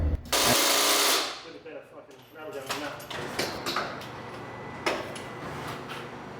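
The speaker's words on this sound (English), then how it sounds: "This rattle gun's not strong enough to get the wheels off the back of this beast." A Milwaukee impact wrench rattles loudly in a short, close burst as it works on the rear wheel nuts of a one-tonne ute. Talk and workshop noise follow.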